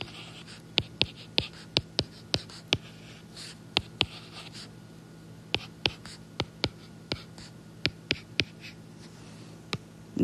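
A pen scratches and taps on paper while someone works through matrix rows for linear equations, giving sparse, irregular sharp strokes at close range over a soft steady hum.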